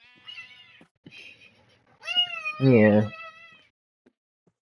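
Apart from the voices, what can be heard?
cat meowing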